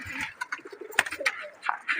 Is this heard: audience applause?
no